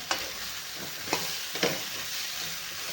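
Brinjal being sautéed and stirred in a green chilli masala, with a soft sizzle and three distinct spoon scrapes against the pan, fairly quiet and close.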